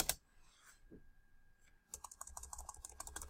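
Typing on a computer keyboard while entering a note into CRM software: after a brief pause, a rapid run of crisp, close key clicks fills the second half, quiet and without talk.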